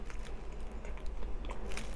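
Close, quiet crunchy bites and chewing of cheese bread and crisp water chestnut, a rapid series of crackly crunches repeating steadily with no speech.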